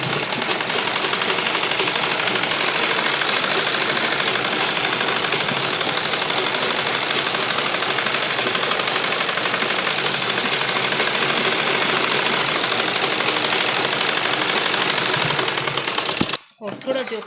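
A sewing machine runs steadily while double-stitching salwar fabric, a continuous close, loud mechanical whir that holds for about sixteen seconds before stopping abruptly with a couple of short clunks at the end.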